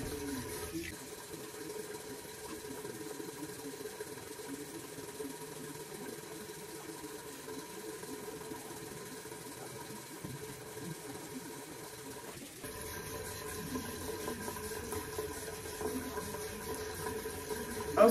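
Tap water runs steadily and close, a continuous hiss that grows slightly brighter and louder partway through.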